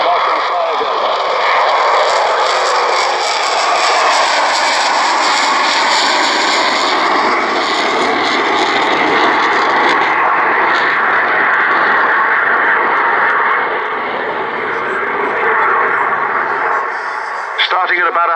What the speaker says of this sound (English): In October, you will never see another Vulcan fly again.